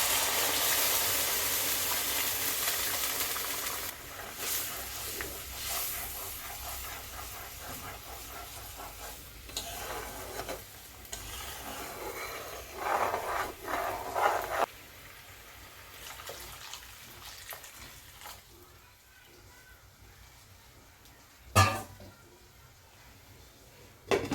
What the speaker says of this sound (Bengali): মশলাটা ভালো করে কষানো হয়ে গেছে এবার আমি একটু গরম জল দিয়ে দিলাম